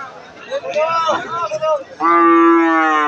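At a cattle market, a cow gives a loud, close, sustained moo near the end, with people talking and crowd chatter beforehand.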